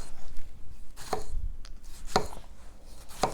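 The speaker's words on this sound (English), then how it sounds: "I'm just going to take them and cut them into wedges." Knife chopping roasted tomatoes into thin wedges on a cutting board, three crisp separate cuts spaced about a second apart, close and fairly quiet, with no talk.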